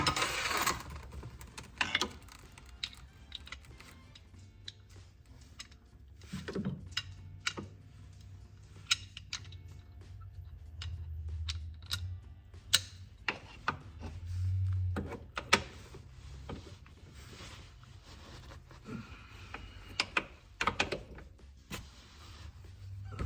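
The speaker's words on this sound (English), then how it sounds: "So I'm gonna go ahead with the breaker bar here." Working a breaker bar and ratchet on the nuts of a 1992 Lexus LS400 (UCF11 Celsior) produces close, irregular metallic clicks, ratchet ticks and clanks, scattered with pauses and light handling noise and no talking.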